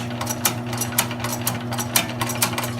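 An electric grommet, snap, button and rivet press from GoldStarTool runs with a steady motor hum and regular mechanical clacks roughly every half second, close and fairly loud with no talking.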